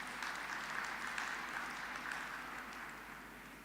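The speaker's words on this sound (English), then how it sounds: "Can we give him a round of applause" Audience at a university graduation ceremony applauding steadily in a large hall, heard faint and distant as an even wash of clapping with no talking.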